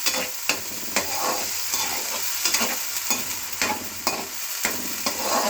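Onions and spices fry in oil for stuffed bitter gourd, a steady close sizzle broken by regular scraping stirs of a spoon against the pan, with no talking.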